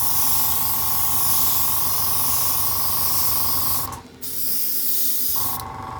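Budget Amazon airbrush spraying paint for weathering a model railway, a loud continuous hiss with a steady tone that cuts out briefly near the end and then resumes, with no stuttering.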